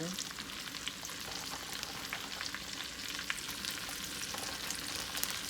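Okra fries in a hot iron skillet, giving a steady, close crackling sizzle with scattered sharper pops throughout.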